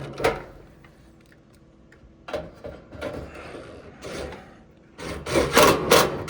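Small metal screws are driven back into an Amana dryer panel during a no-heat repair, giving scattered rubbing and scraping turns, a few isolated ticks, and a denser burst of grinding near the end, close and fairly quiet.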